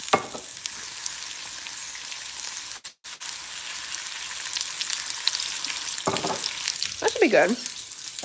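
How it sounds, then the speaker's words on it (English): Food frying in oil in a pan on a stovetop during a live cooking stream, a steady broad sizzle running throughout with a brief dropout near the middle, scraping or stirring later on and a short spoken remark. "And let's add some more oil into the pan."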